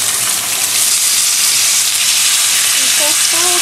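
Beef pot roast sears in a hot iron pot, a loud, constant, hissing sizzle filling the sound close up, with a voice briefly speaking over it toward the end.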